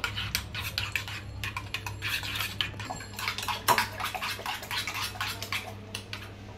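Three eggs and other noodle-pizza ingredients are mixed in a bowl, giving a quick, steady run of faint metallic clinks and scrapes from the utensil against the bowl, with no talking.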